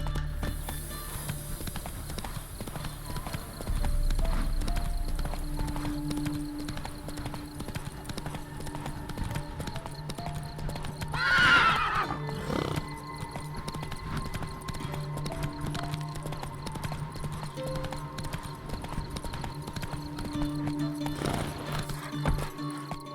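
A horse in the Witcher 3 video game trots and gallops with continuous rhythmic clip-clop hoofbeats, and a single loud whinny rises midway; a faint voice urges it on.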